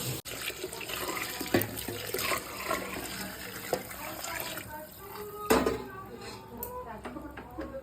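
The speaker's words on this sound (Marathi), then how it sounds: "दुसऱ्या गॅसवर मी पाणी गरम करण्यासाठी ठेवलेले आहे तर ते पाणी आपण त्यामध्ये ॲड करू" Hot water poured into a pot of spiced, sautéed vegetables and rice on a gas stove for a mess meal, a steady liquid wash with clatter throughout.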